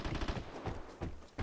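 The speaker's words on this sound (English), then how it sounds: "you notice me not saying anything about the gunshots in the background." Bursts of gunfire in the Vigor video game, a few quick faint distant shots in short clusters.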